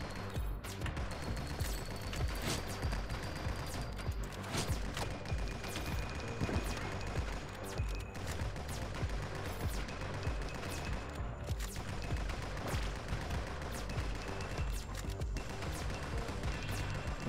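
Rocket launcher explosions and rapid gunfire from the shooter game NIMRODS: GunCraft Survivor form a dense, unbroken barrage of crackling shots and bursts that stays loud and busy throughout, with sharper blasts standing out now and then.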